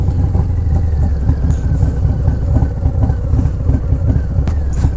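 Harley-Davidson Low Rider S with a Screaming Eagle 122 stage 3 engine rumbles steadily and loudly at low RPM while riding, a deep, continuous throb with rushing wind, no talking.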